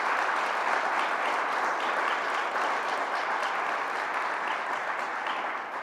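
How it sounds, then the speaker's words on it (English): A steady, dense round of applause rises from a large audience at a press event in New York, continuous and even from start to finish, with no speech over it. "Let's give them a round of applause also."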